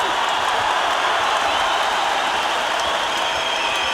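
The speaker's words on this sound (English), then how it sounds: "the crowd are cheering" A crowd at an M-1 Challenge MMA fight roaring and cheering, a steady loud wash of crowd noise throughout, with no pauses or quiet moments.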